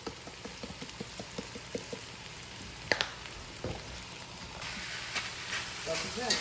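Ground beef and onions frying in a pan, a low crackling sizzle with scattered spatula taps and scrapes, fairly quiet under a nearby voice.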